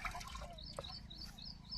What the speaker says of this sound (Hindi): अपने को 15 लीटर तक ही पंप को भरना है। तो अब भरो, डाल दिया।